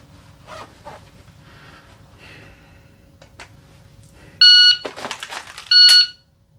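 During a concealed-carry pistol draw drill, after quiet, faint background, a loud electronic shot timer beep sounds, a sharp gunshot cracks right at its tail end, then a second beep follows.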